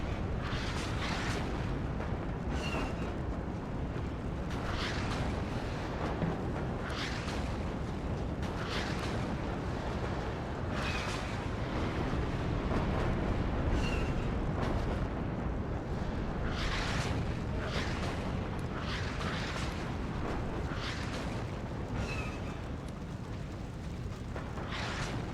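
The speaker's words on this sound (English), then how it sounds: "You guys are seeing the MLRS coming in." MLRS rocket artillery strikes in the strategy game WARNO arrive as a dense, steady rumble of distant impacts and roaring launches, with repeated sharper bursts standing out over a continuous low battlefield drone.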